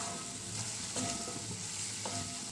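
Onions stirred in a hot frying pan with turmeric and coriander-cumin powder for a Kathiyawadi onion curry, a steady close sizzle with soft scraping stirs and no voices.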